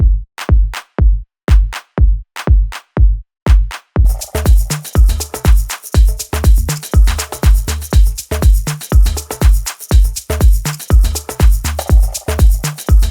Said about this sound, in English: The first thing I did to establish the groove was play the tom drums.